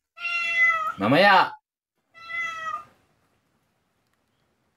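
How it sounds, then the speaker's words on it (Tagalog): A cat meows twice, a long drawn-out cry then a shorter one, close by, with a brief spoken word between them. "maingay pa yung nag-agree yung aking pusa"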